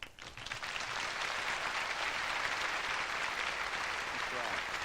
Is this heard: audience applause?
yes